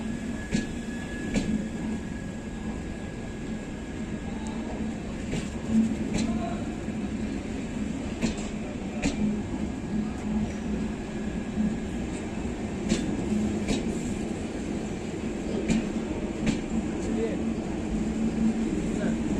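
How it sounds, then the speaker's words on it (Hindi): Inside the Chauri Chaura Express passenger train in India, a steady rolling rumble fills the carriage with periodic wheel clicks over rail joints, while voices talk nearby. "चालू होगा ट्रेन। हाँ अब चालू होगा।"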